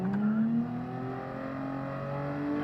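A Honda NSX in Gran Turismo 7 brakes in a straight line and downshifts to third, the engine note jumping up and then sweeping smoothly higher as revs climb, fairly quiet and heard without talk.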